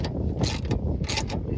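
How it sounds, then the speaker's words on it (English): A wrench tightens the 19 mm nut on a front sway bar link of a 2006–2011 Toyota Camry, giving a close, brief series of metallic ratcheting clicks in quick bursts. "And just tighten it until it's tight enough."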